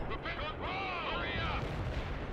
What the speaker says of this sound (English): Artillery strike anywhere.